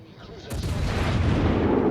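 Warship guns boom in rapid salvos in World of Warships: Legends, a sharp blast followed by heavy rumbling fire that builds and stays loud, with someone talking over it.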